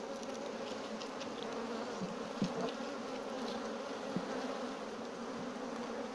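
Steady, dense buzzing of honey bees around a hive box from a newly divided colony, a continuous insect drone with a few louder passes close by.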